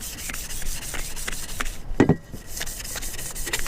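A car's strut tower brace being scuffed by hand with sandpaper, a steady rhythmic rubbing of back-and-forth strokes close up, with one brief louder knock partway through.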